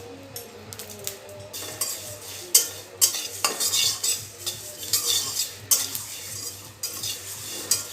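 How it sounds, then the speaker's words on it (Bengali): Black mustard seeds, nigella and other whole spices dry-fry in a kadai for a ripe tamarind pickle. A spoon stirs and scrapes them steadily, with clinks and a light sizzle. Nobody speaks. "সবগুলো মশলা বেশ ভালো মতো ভেজে নিতে হবে।"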